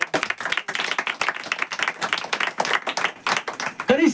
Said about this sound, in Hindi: सिस्टर के लिए जोरदार ताली